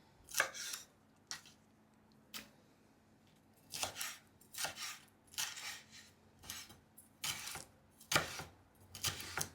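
Peppers are knife-chopped on a board in a home kitchen, giving about a dozen crisp, irregular chops spaced over quiet pauses, close and clear with no talking.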